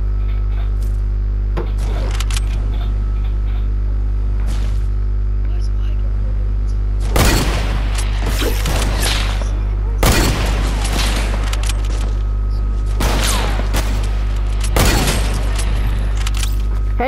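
Gunfire in Fortnite arrives as several loud bursts of shots over a constant low hum, clustered in the second half with short gaps between volleys, while people talk excitedly in the background.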